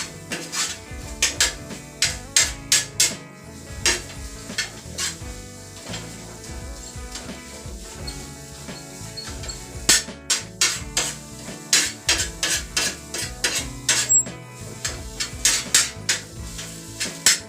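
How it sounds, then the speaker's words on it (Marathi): A metal spatula stirs and scrapes egg bhurji with onion and tomato on a flat street-food griddle, giving rapid rhythmic clanks and scrapes over a steady sizzle, loud and close throughout. "फक्त तुम्हाला ही हलवत राहायची आहे जेणेकरून ती खाली"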